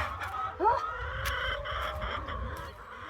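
Young laying hens on a family farm cluck and call. One close, rising squawk stands out early, over a low background of softer clucks and farmyard noise.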